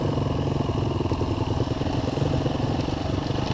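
A modern dirt bike motorcycle runs steadily on a trail ride, its mid-pitched engine loud and close with a continuous, slightly rough, rattling drone and no talking.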